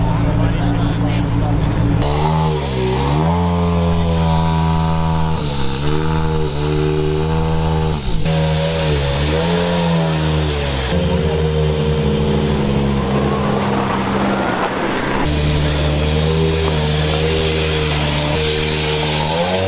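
Rally cars at Rally Sweden, with engines droning, revving and shifting steadily and loudly at close range, while people talk over them for much of the time.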